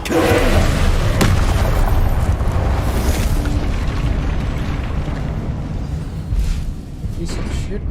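Booming magical blasts from the Confringo spell in the video game Hogwarts Legacy, loud rumbling detonations that roll and decay, with a sharp crack early on and the low rumble fading toward the end.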